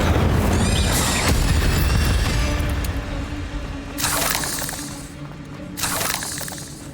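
A fire spell cast in the Hogwarts Legacy video game on PC gives a loud burst of roaring, crackling effects, followed by two shorter whooshing flares later on.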